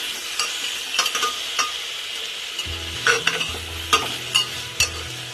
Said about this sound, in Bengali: চিকেনগুলো একটু সবজির সঙ্গে নাড়াচাড়া করে নেব।